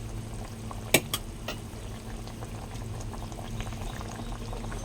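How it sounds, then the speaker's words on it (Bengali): A fish curry simmers at a steady boil in a pot, a continuous low bubbling with a couple of sharp clinks near the start, probably spice being scattered in, and no talking. "আমার মাছের ঝোলটা ফুটে গেছে"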